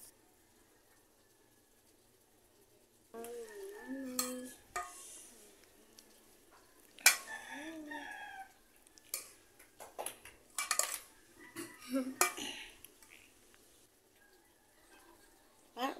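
A utensil stirs and mixes vegetable salad in a bowl, giving scattered close clinks and scrapes. A child's and an adult's voices sound between them, and a bird coos faintly in the background.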